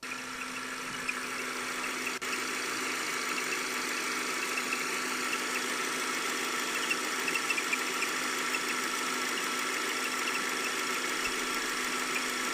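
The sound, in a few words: car engine idling with serpentine belt squeal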